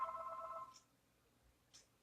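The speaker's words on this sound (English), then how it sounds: "I hope you can still hear me over that phone" A telephone rings faintly indoors: a brief electronic trill that fades out into near silence, followed by a couple of soft distant clicks.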